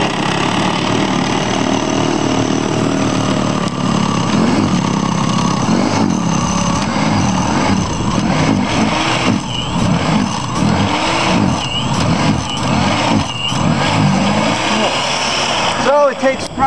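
Toro 1800 snowblower engine runs steadily after a blizzard, a continuous close motor drone with slight load changes as it clears snow, with a person talking over it throughout.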